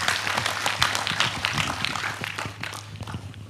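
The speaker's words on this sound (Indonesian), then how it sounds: "Tepuk tangan untuk beliau." Audience applause for a speaker being welcomed at a gathering, a dense steady patter of many hands clapping at close range for several seconds, gradually easing toward the end.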